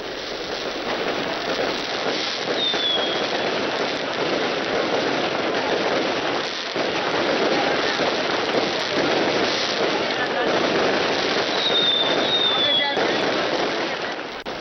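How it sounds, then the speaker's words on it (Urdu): A celebratory fireworks display held for a Makkah defence pact crackles and pops in a dense, continuous barrage. It stays loud and unbroken from start to finish. "شاندار آتش بازی، آسمان رنگین ہو گیا ہے"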